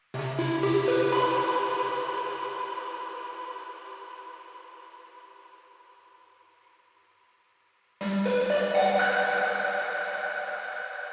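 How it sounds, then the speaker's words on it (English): A shimmering Serum synth layer swells over an ambient beat's sustained chords, a bright wash that slowly decays into silence before the full chord texture returns loud and dense, with no voices. "Then we add the shimmer."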